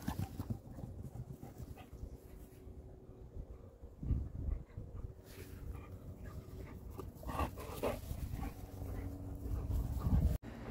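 Dogs just home from a walk pant and whimper nearby with faint rustling and shuffling, quiet and steady for several seconds.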